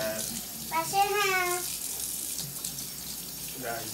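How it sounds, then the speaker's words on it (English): Water from a tap runs steadily in a home bathroom sink as hands are washed, a soft continuous hiss under a child's and an adult's voices. "The first step wash my hands."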